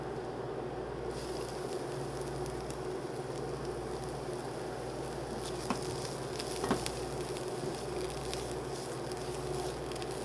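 Garlic and onion sizzle in a pan over medium-high heat for cauliflower fried rice, giving a steady, even hiss with a few faint clicks from the pan and no talking.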